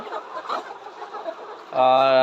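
Layer pullet hens about 110 days old cluck softly in a busy flock on a poultry farm, then a louder sustained, tonal call rises near the end.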